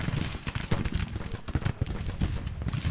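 Skirmishers' rifle fire in a Grand Tactician Civil War battle, a dense crackle of overlapping shots and thuds that keeps going throughout at moderate loudness.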